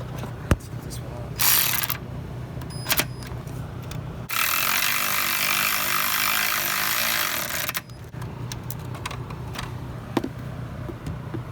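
A ratchet wrench with a 15 mm socket works loose a starter bolt on a 2010 Dodge Journey RT, giving short clicking bursts and a long steady ratcheting run at close range.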